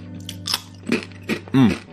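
Close, crisp crunching as a cracker is chewed in a few separate bites, ending with a short hum from the eater.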